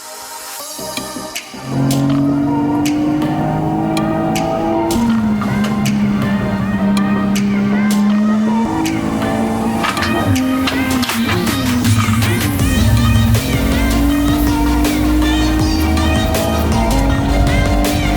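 A Toyota A90 Supra with a manual gearbox runs laps at Gingerman Raceway in a racing simulator. After a brief quiet start, a loud, steady engine drone sounds close up and alone, rising and falling with gear changes and throttle.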